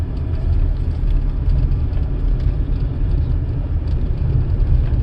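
A steady low rumble of a car driving through open farmland, heard from inside. The road and engine noise is dense and continuous, with no talking.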